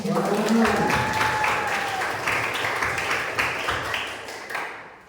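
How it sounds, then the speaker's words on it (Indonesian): An audience at a religious-knowledge quiz olympiad final for senior high school students claps in a short burst. A quizmaster's voice and a held tone sound over it at the start, and the clapping then thins out and fades. "Lagi-lagi tepuk tangan lagi"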